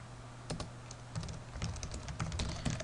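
Keys on a computer keyboard tapped out in quick irregular bursts while entering a router config-register command, close and clear with brief pauses between runs of keystrokes.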